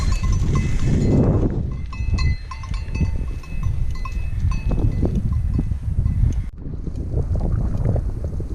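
A herd of goats on a quiet mountain road in Greece, with scattered bleats and bell-like clinks mixed with heavy wind buffeting the microphone, fairly close and continuous.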